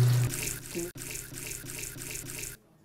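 A pedal-operated faucet at a health facility runs water steadily and close by in a washing setting, briefly interrupted once, then stops abruptly near the end.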